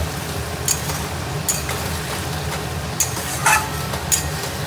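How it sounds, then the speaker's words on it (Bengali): Boiled mutton and potatoes being sautéed in a pan at home, giving a steady low sizzle with a few sharp clinks and scrapes of a utensil against the pan, with no talking. "সিদ্ধ করা মাটনটা দিয়ে কষছি"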